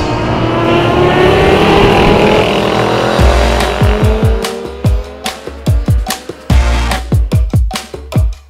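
Race motorcycle lapping Donington Park during a track day, engine roaring steadily at high revs, then a series of sharp gear changes and revving bursts as it brakes and accelerates out of a corner, loud and close.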